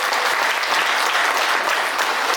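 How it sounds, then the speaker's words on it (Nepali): Loud, dense applause from a congregation fills the room without pause at a Nepali Christian wedding ceremony, just after the couple's vows. "जोरदार ताली बजाउँ।"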